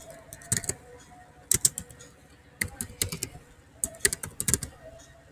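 Short bursts of clicky keystrokes on a computer keyboard as a command is typed, coming in several quick clusters with pauses between them, close and fairly crisp over a quiet room.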